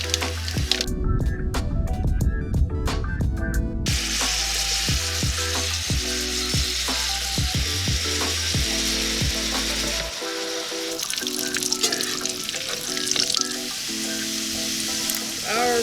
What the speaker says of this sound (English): Our bacon is nice and cooked and crispy, so I'm going to pull this off the fire